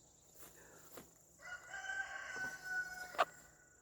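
A chicken named Squawky gives a soft cluck, then a short, faint crowing call with a sharp squawk near the end, heard fairly quietly in a calm room.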